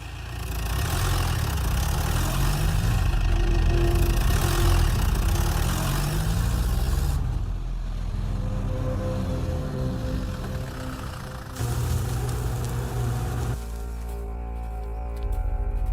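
A tractor engine idles in a Hindi-dubbed film scene, a steady low rumble that runs the whole time, its tone and level shifting slightly partway through.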